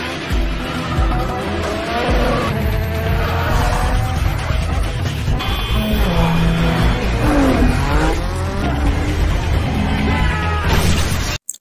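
Film car chase scene: loud engines rev and tires squeal and skid almost nonstop, with cars sliding and accelerating through turns.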